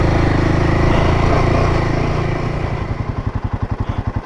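A Royal Enfield motorcycle engine idles and revs close by on a dirt track near Matlock, first a loud steady roar, then settling into a slow, heavy thumping beat.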